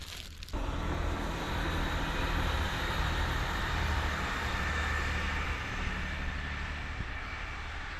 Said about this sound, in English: There's a train over there on the other side of the river.